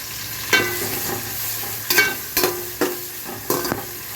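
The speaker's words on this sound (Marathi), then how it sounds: "हे सर्व तेलामध्ये व्यवस्थित परतून घ्या" Onion, ingredients and asafoetida sauté in oil for a traditional fasting dish, with a steady soft sizzle broken by about six sharp spoon scrapes and knocks against the pan. No one speaks.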